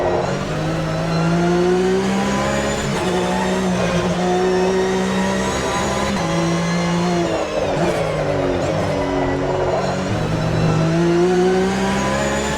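A Porsche Carrera Cup race car laps Kyalami in the AMS2 racing game, its engine note loud and continuous as it revs and shifts up and down through the gears, with no voices.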